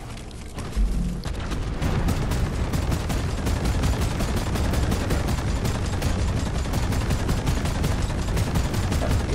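Continuous rapid automatic gunfire in the video game Deep Rock Galactic, aimed at a large exploding enemy. Dense, loud, unbroken bursts of shots with heavy low rumble, lasting throughout.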